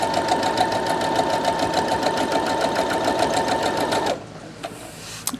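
A Bernina sewing machine stitching a quarter-inch seam runs loud and close at a steady, fast whirring rhythm for about four seconds, then stops, leaving a quiet room with a few small clicks.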